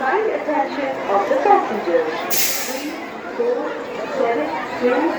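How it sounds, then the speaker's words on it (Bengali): Dense crowd chatter fills a packed Namkhana train, many overlapping voices murmuring steadily and close throughout, with a brief hiss of noise near the middle. "প্রচুর ভিড় নামখানা ট্রেনে।"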